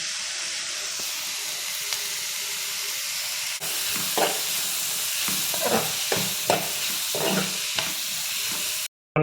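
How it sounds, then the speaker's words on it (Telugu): Onions frying in a pan for an alsanda (black-eyed pea) curry, a steady hissing sizzle that swells with bursts of stirring and scraping in the second half, then cuts off abruptly. "ఎర్రగడ్డలు వేగినాయి."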